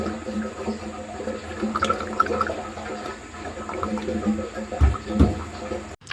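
Engine oil from a Jaguar XJ6 Series 1 pours and splashes into a drain pan, a gurgling, dripping liquid sound with a few louder glugs near the end, close by and heard alone.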